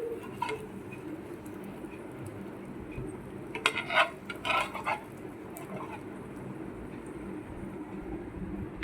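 An egg omelette being flipped and slid from the pan onto a plate: a short, faint burst of metallic clinks and scraping midway, set against a quiet kitchen hum.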